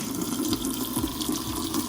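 Household faucet running gently at low pressure, a steady close splashing stream into a sink, alone and fairly quiet.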